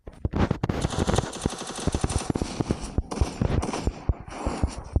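Rapid automatic gunfire from a video game crackles in loud back-to-back bursts with brief gaps between volleys, close and dense throughout.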